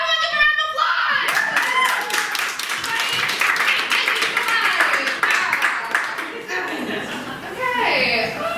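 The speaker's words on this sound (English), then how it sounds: "Everyone give a round of applause!" Audience at a live comedy night breaks into loud, sustained applause and clapping with some laughter and whoops, fading slightly near the end.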